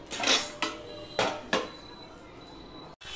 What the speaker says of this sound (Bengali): এবার আমি ঢাকা দিয়েই ফুটিয়ে নেব